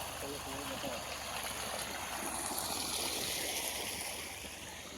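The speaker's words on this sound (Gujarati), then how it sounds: "આ કૂવામાંથી પાણી આવે છે દેખો દોસ્તો" Water gushes out from a farm well into a field, making a steady, close, bubbling stream sound that eases slightly at the end, with a voice audible over it.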